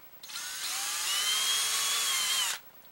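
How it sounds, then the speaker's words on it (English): A power drill bores a pilot hole into a SnapBow foregrip, a single steady high-pitched whine lasting about two seconds with a slight rising pitch, close and alone. "So we're going to drill it with our pilot drill"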